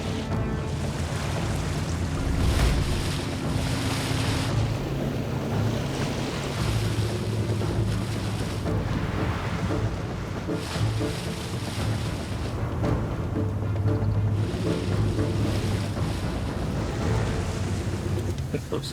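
Experimental truck fording a river in Siberia, a rough, churning wash of water and engine rumble with gusty wind buffeting the microphone, continuous and fairly loud throughout.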